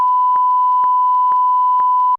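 A steady, loud sine-tone censor bleep runs unbroken for about two seconds, masking a spoken brand name, with faint clicks at regular intervals beneath it.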